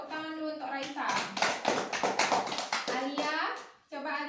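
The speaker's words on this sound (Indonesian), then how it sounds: "Tepuk tangan dulu untuk Raisa." Children clap together in a classroom, a burst of quick, uneven hand claps lasting a few seconds, with a teacher's voice speaking before and after.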